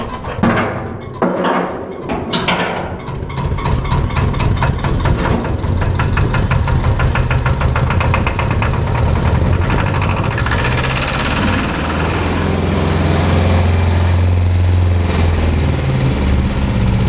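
A small engine aboard a steel sailboat cold-starts on a snowy day using a cold start button: a few uneven cranking bursts catch, then it settles into a loud, steady, knocking idle close by.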